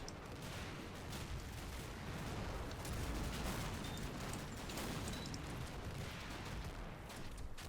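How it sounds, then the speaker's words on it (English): Sustained battle din from the Combat Mission wargame, with dense overlapping gunfire and booming bursts rolling steadily and loudly throughout, no voices. "And they are really shooting those guys up."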